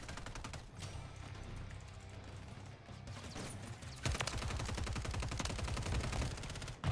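Rapid automatic gunfire in a video game, continuous bursts of quick shots at moderate loudness that grow denser and heavier in the second half, with no talking.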